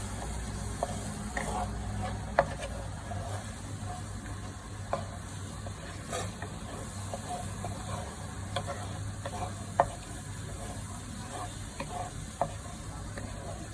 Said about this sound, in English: Okay, so let's mix that nice and well.